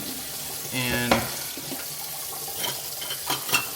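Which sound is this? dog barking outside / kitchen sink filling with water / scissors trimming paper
kitchen sink filling with water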